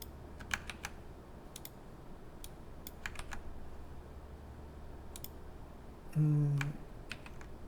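Typing on a computer keyboard while entering Blender shortcut keys, sparse close key clicks in small clusters separated by pauses, ending with a brief louder clatter.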